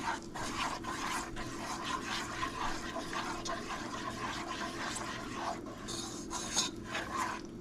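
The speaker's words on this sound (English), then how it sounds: "Once your oil has gotten pretty hot, I'm going to put the equal parts flour in there." Wheat flour being stirred into hot oil in a pot for a gumbo roux: a continuous rough scraping and rubbing of the spoon with a thick bubbling hiss underneath, fairly close.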